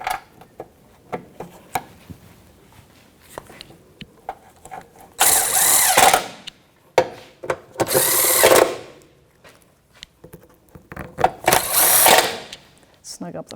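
Power tool snugging the front fasteners on a 2007-2017 Jeep Patriot 2.4L during a front suspension job, with three loud bursts of whirring several seconds apart and quieter clicks and handling noises between them.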